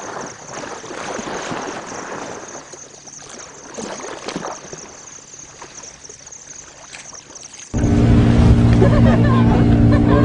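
Sea breeze blowing at the seaside in Senegal, a steady rushing wind with low rumble that turns suddenly much louder and fuller partway through, sustained to the end without speech.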